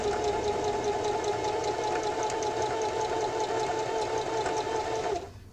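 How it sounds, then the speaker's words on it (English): A sewing machine runs steadily, stitching a straight topstitch across a drawstring backpack seam, its fast even whir close and continuous before stopping abruptly near the end. "So just sew it straight across."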